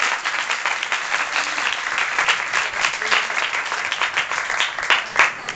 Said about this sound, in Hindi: तालियां बजाइए बहनों के लिए